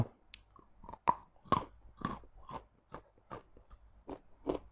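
Someone bites and chews crispy baked purple sweet potato chips close to the mic, giving a steady series of sharp, dry crunches with short pauses in between.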